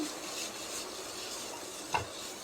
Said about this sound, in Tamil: இப்போ நெய்யில் வந்துட்டு தேங்காய் லைட்டாக வறுபடட்டும்